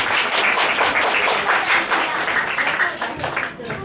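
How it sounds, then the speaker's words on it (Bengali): An audience claps together in sustained, dense applause, loud and steady throughout before easing slightly near the end, at a college cultural competition. "এটা করতালি করছো"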